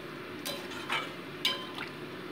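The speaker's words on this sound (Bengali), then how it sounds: "এবার আমি জল অ্যাড করে দেবো। দিয়ে ঝোলের সাথে মশলাটাকে আলুটাকে মিশিয়ে নিচ্ছি আমি।" A spoon stirs water into egg curry masala and potatoes in a pan, giving soft liquid sloshing with a couple of distinct metallic clinks against the pan, close and fairly quiet.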